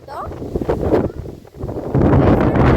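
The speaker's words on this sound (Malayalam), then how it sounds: "ഭയങ്കര കാറ്റാണ്" Strong wind on a hilltop above deep gorges buffets the microphone in loud, gusting rumbles, swelling and dropping, then holding steady and heavy toward the end.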